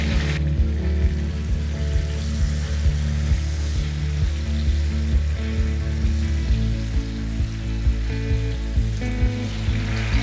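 Mushrooms fry in a pan with salt and turmeric, giving a loud, continuous hissing sizzle over a steady low mechanical hum.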